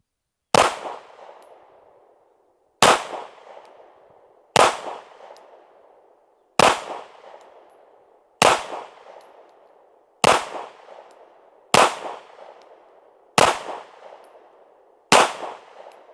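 Kahr PX-9 pistol firing Federal HST hollow point rounds at an outdoor range, nine sharp, loud shots spaced roughly two seconds apart, each with a brief echoing decay.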